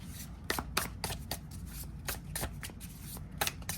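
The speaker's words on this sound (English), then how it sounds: "let's see how these shuffle" A Lubanko tarot deck is riffled and shuffled by hand, with a run of crisp, rapid card flutters and soft slaps repeating at close range for several seconds.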